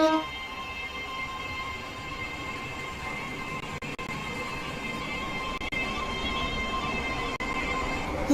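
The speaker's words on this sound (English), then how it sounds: "The train now approaching platform 3 terminates here." A Stepford train in a Roblox game pulling into a platform at Leighton City station, with a steady rumbling rail drone and a long sustained horn tone throughout, no voices.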